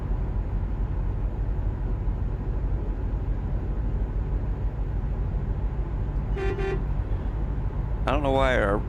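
In a truck driving game, a Volvo VNL 860 sounds its air horn in two short blasts near the end, over a steady diesel drone, with a voice talking.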